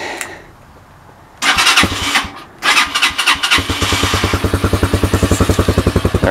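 A Tao Motors TBR7 motorcycle engine with its catalytic converter removed cranks, sputters briefly, then catches and settles into a loud, steady, rhythmic idle, heard up close.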